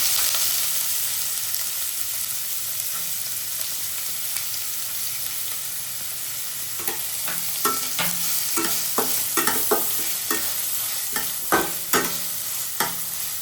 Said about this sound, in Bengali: পেঁয়াজটাকে আমরা লাল লাল করে ভেজে নেব।